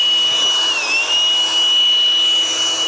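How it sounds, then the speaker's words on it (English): A MekiPow diatomaceous earth duster fitted with a blower attachment, running as a small blower on a sidewalk and front porch: a loud, steady whining airflow with a high tonal hum, close and alone. "Let me put the little blower attachment on there and use it as a blower."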